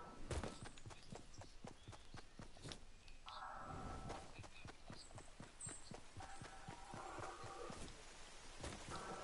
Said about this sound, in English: Here comes the storm.